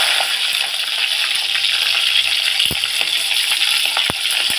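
Fenugreek seeds, cumin, curry leaves and green chillies frying in hot oil for a Tamil mackerel fish curry, giving a steady close crackling sizzle with scattered sharp pops throughout and no talking.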